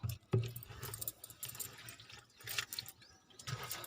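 Liquid kitchen-waste mixture sloshes and splashes softly as it is stirred in a drum, in irregular swishes close by.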